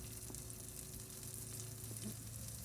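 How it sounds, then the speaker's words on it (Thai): Chili curry paste stir-fried in a pan until dry, a dense steady sizzle with faint scraping, close but quiet. "พี่ชื่นผัดมาแล้วรอบนึง ต้องผัดให้แห้งเลยนะคะ"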